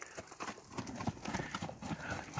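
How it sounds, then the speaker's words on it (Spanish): Hooves of horses walking during horse training, steady repeated clip-clop thuds at close range, moderately loud, with a faint whinny-like tone and no talk over them. "Lo enseñamos con otro caballo."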